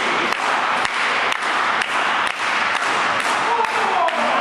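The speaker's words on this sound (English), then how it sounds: "You can hear the crowd getting behind them." Crowd at a SoCal Pro independent wrestling match clapping in a rhythmic beat and cheering, steady and loud, with a commentator talking over it.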